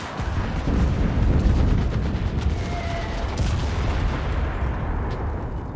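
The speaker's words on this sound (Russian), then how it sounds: "Больно много взрывов." Dense, continuous battle din of explosions and gunfire in the WW2 video game Enlisted, a steady loud rumble of booms with scattered sharper blasts throughout, no clear gaps.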